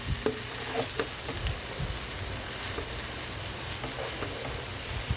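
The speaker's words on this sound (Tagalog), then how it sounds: "Halo lang po mabuti para maging even yung pagkaluto niya." Cabbage stir-fried in a pan for a budget ginisang repolyo, giving a steady close sizzle with scattered scraping and stirring knocks throughout, no talking.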